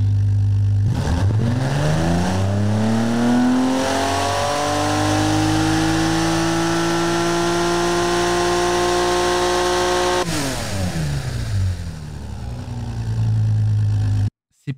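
A video game car engine revs up steadily, its pitch climbing and holding at a high whine before dropping, then surging again; loud, continuous, no voices.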